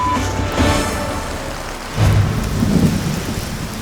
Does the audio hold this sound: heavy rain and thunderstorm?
yes